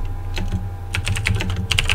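Close-up typing on a computer keyboard: quick, uneven bursts of sharp keystroke clicks with short pauses between them, clear over a faint steady hum.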